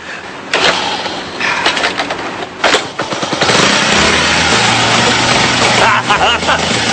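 A Honda Cub motorcycle engine is cranked and fires up, settling into a loud, close idle with a buzzing putter while a person talks over it.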